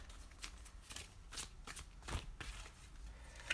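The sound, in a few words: shuffling tarot cards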